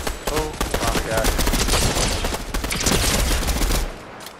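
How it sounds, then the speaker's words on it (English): Dense, continuous bursts of explosions and gunfire in a battle royale style video game, loud and sustained for about four seconds before cutting off abruptly. "Another explosion."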